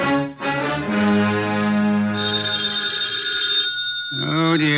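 An old-time telephone bell rings in an indoor radio drama scene, a sustained bright tone that stops and starts again, with overlapping sustained tones and effects.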